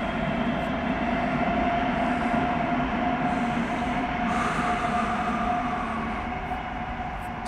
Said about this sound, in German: Und kommt eine S-Bahn.